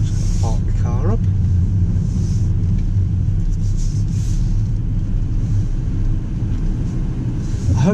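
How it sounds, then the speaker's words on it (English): A manual car driving slowly and pulling in to park gives a steady low engine rumble throughout at constant level, with faint higher noise on top and no distinct gear or brake sounds. "Just going to park the car up."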